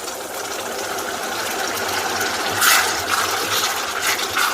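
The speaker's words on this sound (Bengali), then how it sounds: "পেঁয়াজের সাথে আলুটা একটু ভাজার পরে এখন আমি সামান্য পানি দিয়ে দিব" A little water poured into a pan of frying potatoes and onions while cooking chickpeas, setting off a loud, continuous hiss and sizzle that swells partway through, with no talking.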